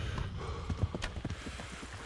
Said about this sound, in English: Vai, cavalo.